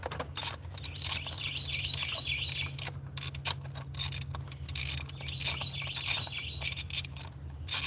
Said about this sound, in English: Listen to them birds in the background.